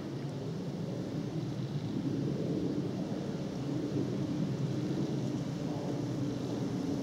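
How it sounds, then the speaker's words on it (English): Jet aircraft passing overhead, heard from high ground looking across a valley on the Northamptonshire borders, a steady, far-off broadband roar that holds level throughout without any other sounds. "there's some jet noise up here"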